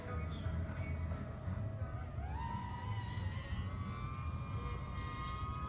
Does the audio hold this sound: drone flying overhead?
yes